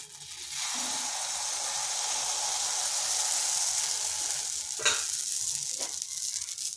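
Pitha batter sizzles steadily on an oiled hot pan, a continuous close hiss with a couple of brief louder crackles near the end.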